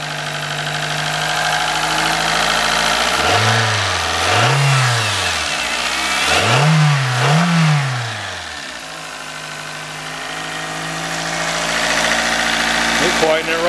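A cheap old clunker car bought for about $200 runs its engine, settling into a steady idle broken by two paired revving swells. It stays close and moderately loud throughout.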